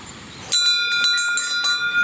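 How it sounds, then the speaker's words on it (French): A bear bell struck on a hiking trail in the Japanese Alps, with a sharp onset after a quiet half second followed by several bright, ringing metallic strikes that sustain and overlap close by. "il y a des cloches à ours qu'il faut sonner pour les éloigner"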